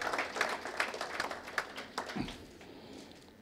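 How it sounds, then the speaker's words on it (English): Applause at the Jaan Bachao campaign launch for Mr. Ashish Shelar: a moderate burst of clapping that fades out within a few seconds, with no voices over it. "A big round of applause for Mr. Ashish Shelar"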